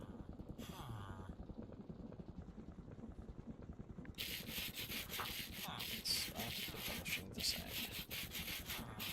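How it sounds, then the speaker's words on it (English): Sandpaper sanding in a Minecraft Create mod game, a steady scratchy rubbing that repeats in short strokes and turns brighter and louder halfway through, heard alone without talk. "Start sanding."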